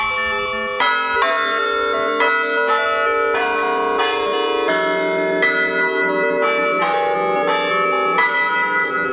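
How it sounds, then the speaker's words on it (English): Historic chime bells at Manchester University ring out a slow melody, each clear bell strike sustaining and overlapping the next, loud and steady with no voices. "the chimes have been a huge part of campus for nearly 100 years now"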